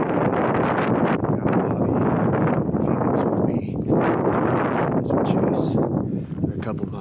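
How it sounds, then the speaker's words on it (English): Strong wind buffets the microphone outdoors during a Coues deer hunt in the Mexican mountains, a loud, continuous rumbling roar that eases slightly near the end. "It's a little bit windy out here, so we're struggling right now."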